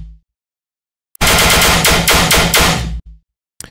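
Soloed tearout dubstep gun mid-bass synth, the kind of heavy distorted patch used on a dubstep track: a loud, dense burst of roughly two seconds, chopped into rapid stuttering hits, bracketed by short low thumps.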